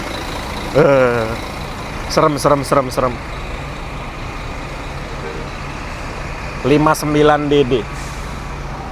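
A Mercedes 2445-chassis bus on aluminium wheels reverses in an Indonesian bus terminal under a constant engine rumble, with short bursts of repeated tonal beeps and air-brake hisses, while a person speaks briefly nearby.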